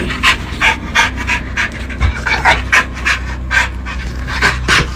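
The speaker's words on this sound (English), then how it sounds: "Brandy's dog Pixie began acting strangely" A dog panting rapidly and agitated indoors with the fan off, loud and close, a steady rhythm of quick breathy huffs over a low background rumble.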